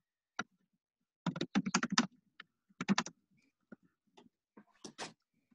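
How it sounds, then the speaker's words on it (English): Bursts of keyboard typing, quick clustered key clicks in short runs separated by pauses, fairly close and clear with no talking. "Oops, I forgot to type something in here."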